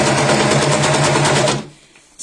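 An overlocker sewing machine runs steadily while trimming excess fabric at the edge, a dense, loud, even whirring for about a second and a half before it stops and falls quiet.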